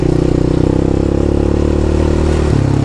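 Yamaha Raptor 700 quad engine on a trail, a loud, close, steady throbbing rumble held at high revs with a slight shift in pitch near the end, no talk.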